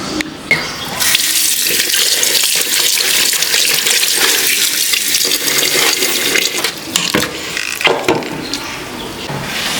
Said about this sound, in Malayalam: ഇനി നമുക്ക് വെള്ളമൊക്കെ ഒഴിച്ച് നന്നായിട്ട് നല്ല വെള്ളം കഴുകി എടുക്കാം